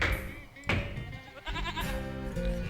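Sheep bleating in a strategy video game, several wavering calls overlapping in quick succession over steady game ambience, fairly close and clear, with a soft thunk early on.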